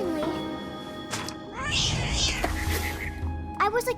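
A cat meows in a video game, one drawn-out, wavering cry through the middle of the clip, with a short burst of voice near the end.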